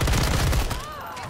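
Video game gunfire cracks out in a dense, rapid burst of close shots, then drops to a quieter tail with a thin whistling tone fading out.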